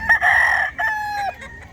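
A rooster crows loudly and close by at a pet market in Bocaue, a single full crow with a trailing end, followed by softer clucking from the chickens around it.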